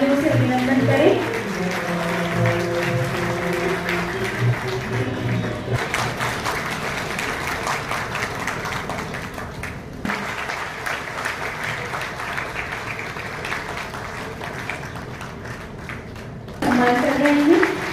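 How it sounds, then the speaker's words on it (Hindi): Audience applause welcoming guests at a Brahma Kumaris spiritual gathering in Lucknow, a sustained wash of clapping lasting most of the stretch with voices and amplified sound running beneath it, briefly fading and swelling again near the end. "जोरदार तालियों से अभिनंदन करें।"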